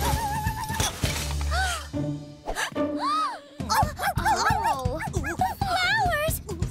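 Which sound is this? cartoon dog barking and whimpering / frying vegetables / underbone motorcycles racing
cartoon dog barking and whimpering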